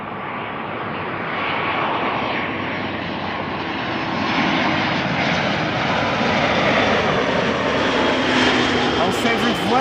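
A Vueling airliner at Amsterdam Schiphol Airport roars steadily with a broad, loud engine rumble and hiss that holds for several seconds, with a voice talking over it.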